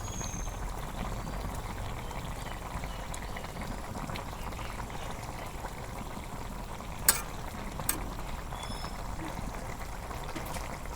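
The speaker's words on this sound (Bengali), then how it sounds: "এই দেখো বলক উইডা গেছে, এখন আমি মাছ দিয়ে দিই।" Fish curry with river fish and water lily stems bubbles at a steady boil in a pot over a village cookfire, a soft continuous simmer broken by two brief sharp clicks, with faint talk in the background.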